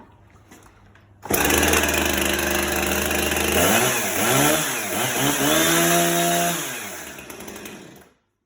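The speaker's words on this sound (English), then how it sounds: "that's how you get your Husqvarna Chainsaw Running." A Husqvarna chainsaw fires on the first pull and roars loudly close by, its engine revving up and down in several surges before settling and cutting off.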